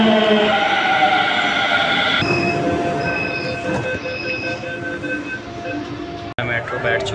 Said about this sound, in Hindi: चलो अब मेट्रो हमारी आ गई है, बोटैनिकल गार्डन वाली